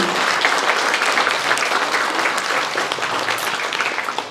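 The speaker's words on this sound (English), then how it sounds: "Let's have you all give a round of applause to our guide dog teams, our breeders, and our canine buddy team" An audience at a Guide Dogs for the Blind graduation ceremony applauds guide dog teams, breeders and puppy raisers, a steady, even wash of many hands clapping throughout, fairly close, with no talk over it.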